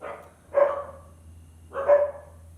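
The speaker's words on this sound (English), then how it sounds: "The dogs are saying hello." Dogs give two loud, close barks about a second apart, each with a short trailing tail, over a faint low background hum.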